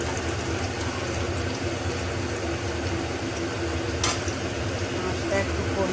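Fish frying in a pan while being pressed down to crisp, a dense, steady sizzle with a low hum underneath and one brief sharp scrape partway through, heard close.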